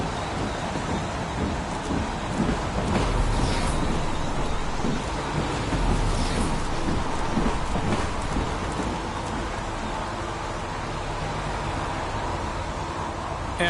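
Steady rain in the video game Heavy Rain, a dense continuous hiss with occasional rumbling swells, loud and close throughout with no talking.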